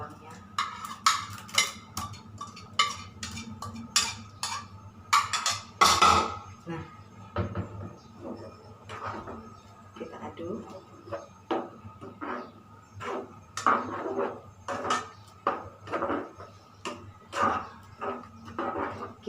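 Chili and shallots cooking down in a pan while the water boils off, with repeated clattering and tapping of a utensil against the pan in irregular bursts and a soft bubbling underneath, and someone speaking at times.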